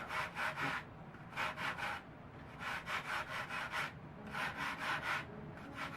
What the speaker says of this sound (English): I use the rasp to take this down and help round it out